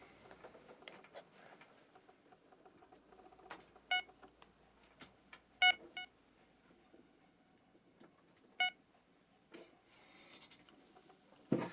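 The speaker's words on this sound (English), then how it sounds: "One beep means I have to recharge the batteries." A metal detector gives a few sharp, short electronic low-battery beeps, spaced irregularly amid faint clicking and handling noise, with no talking.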